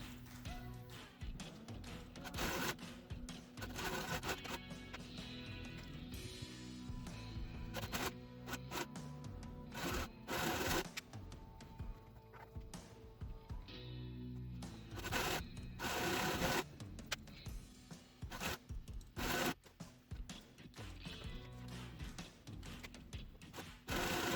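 A sewing machine stitches quilt block fabric together in bursts of fast mechanical whirring and clacking, quiet and close, with short pauses between seams.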